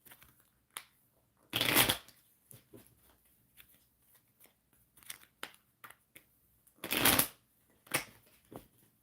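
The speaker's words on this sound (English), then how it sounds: "You see me shuffle?" Tarot cards shuffled by hand in two distinct bursts of riffling, with softer taps and flicks of the cards between them, close up and quiet with no talking.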